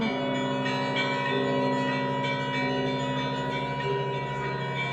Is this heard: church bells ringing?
yes